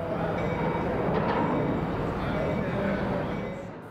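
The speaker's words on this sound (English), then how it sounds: "we find EMD GP30 number 501 backing out of the station" An EMD GP30 diesel locomotive backs out of a station, rumbling steadily nearby with a low continuous roar and faint rail noise, fading slightly at the end.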